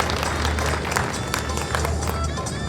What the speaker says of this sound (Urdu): بھرپور میں اتنی کم تالیاں کیسے ہیں؟ زیادہ بجائیں.